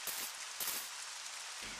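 Rain hits sand in the Resident Evil Code Veronica video game, a steady close hiss of falling drops with brief louder gusts and no voices.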